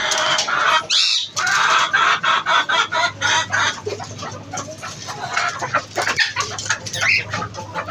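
Hens cluck continuously at close range, a rapid run of short, choppy calls with occasional higher squawks and no talking.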